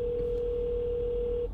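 A single steady telephone tone rings out for about a second and a half as a call is placed, clear and continuous over a low background rumble before cutting off.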